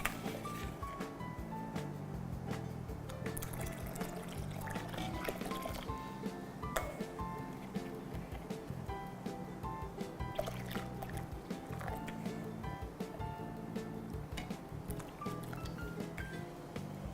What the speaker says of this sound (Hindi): ये टाटरी का पानी है, इसको हम डालेंगे, धीरे धीरे डालेंगे